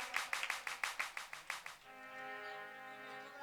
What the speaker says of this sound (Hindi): ताली बजाए दो इनके लिए एक बार